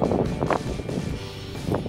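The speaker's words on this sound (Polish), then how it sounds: "Wiatr jest tak silny, że powywalało wszystkie śmieci ze śmietników." Strong wind buffets the microphone in heavy, rumbling gusts, with a constant roaring rush and no voices, strong enough to blow rubbish out of bins at a campsite.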